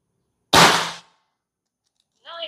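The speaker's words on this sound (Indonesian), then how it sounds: "Kita nembak cepat sekarang teman-teman." Two sharp air rifle shots fired quickly at a target on a range, the first a loud crack with a short decay, the second a softer ringing hit about two seconds later.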